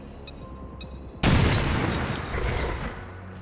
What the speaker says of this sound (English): It is a kill if I throw a frag grenade on him.